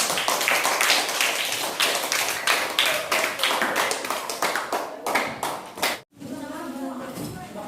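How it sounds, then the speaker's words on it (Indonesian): A classroom of students claps for a classmate in brisk, loud, steady applause that cuts off abruptly, and a teacher's voice follows. "berikan aplaus untuk temannya"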